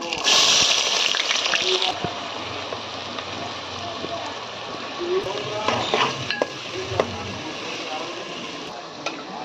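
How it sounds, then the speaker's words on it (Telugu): Chopped onions frying in hot oil in a pan for chicken curry, a steady close sizzle with occasional stirring scrapes and bubbling, no talking. "ఉల్లిపాయలు ఎగుతున్నాయి కదా"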